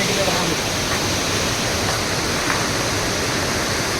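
A waterfall in Cherrapunji, Meghalaya, pouring down under pressure, heard as a loud, steady, broadband roar of rushing water with no break.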